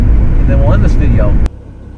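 A Merkur XR4Ti is driven slowly back to park next to a Ferrari 308 QV, its loud, steady low engine rumble filling the cabin before cutting off abruptly partway through.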